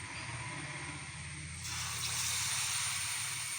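Batter-dipped eggs drop into hot oil and fry with a steady, fairly faint sizzle and hiss that swells a little partway through, with no voices.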